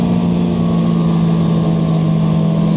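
A Freeride 800 snowmobile engine riding along a trail, a steady loud drone with a strong low hum and wind rush, continuous and unbroken throughout.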